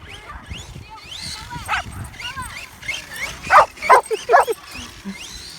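A dog barks and yips in a run of sharp, loud barks, some whiny and rising, outdoors near an RC monster truck, with people talking in the background.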